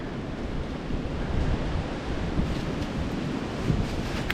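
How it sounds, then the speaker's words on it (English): Steady wind gusting outdoors in a New York State forest off trail, a broad continuous rushing roar that swells and eases slightly over a few seconds, close and loud against the microphone, with no voices. "It's getting windy again."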